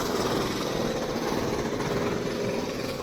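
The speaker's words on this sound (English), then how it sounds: "The sounds of modern Saigon." Construction jackhammering on a street in modern Saigon keeps up a steady, rumbling, rapid pounding with engine-like drone, constant and moderately loud with no voices.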